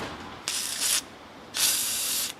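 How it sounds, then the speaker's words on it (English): WD-40 sprayed into a car door latch on a Crown Victoria: two close, sharp hissing bursts, the first about half a second and the second nearly a second long, with quiet in between. "I'm going to use some WD-40, spray it around in there."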